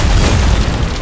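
A dense, booming explosion effect from an anime-style action edit fills the whole moment, loud and rumbling with a broad burst of noise and no voices.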